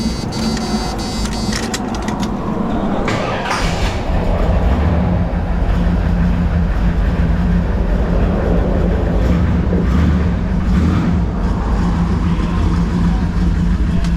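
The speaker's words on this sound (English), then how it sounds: "See how this thing sounds when it starts up." An engine cranks and catches after a few seconds, then settles into a steady running hum with a faint ticking rhythm, close by.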